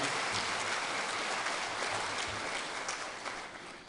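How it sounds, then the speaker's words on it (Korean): Audience applause at a Won Buddhist ordination ceremony, a dense steady wash of many clapping hands filling the whole stretch at moderate level and slowly thinning toward the end, with no talk over it. "다시 한번 힘찬 박수로 본문 말씀에 감사 올리겠습니다."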